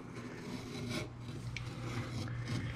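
Electrical wire has its outer insulation stripped while a plug receptacle is being installed, making a steady, quiet scraping rasp that runs unbroken for a few seconds with no talking.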